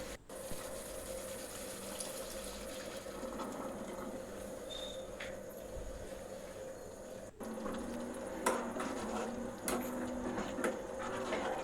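Water gushes and splashes steadily into a pot of chickpea masala for several seconds, close by over a constant background hum, with no voices.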